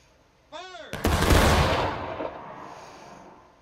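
Musket volley in the War of Rights game: a single loud, crackling roar of many muskets firing together, rumbling and fading away over a few seconds, preceded by a brief tonal chirp.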